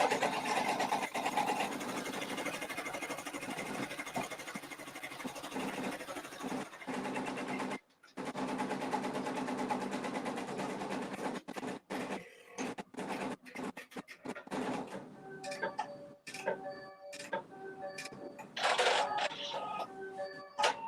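An embroidery machine stitches denim fabric held in a hoop, a close, continuous mechanical whir that later breaks into rapid stop-start pulses and brief pauses.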